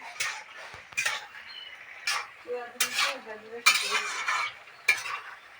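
Cucumber curry with prawns being stirred and sautéed in a pan, metal utensil scraping and clinking in repeated bursts over a soft sizzle, close and fairly loud.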